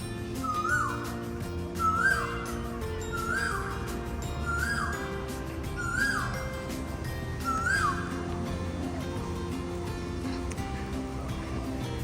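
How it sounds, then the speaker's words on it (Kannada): Birds in a Singapore park in the morning: a clear whistled call with a quick rising sweep repeats six times at a steady, unhurried pace over a soft outdoor background hum. "ಸಖತ್ ಇದು ಕೇಳಿಸ್ತಾ ಇದೆ, ಬರ್ಡ್ ಹಮ್ಮಿಂಗ್."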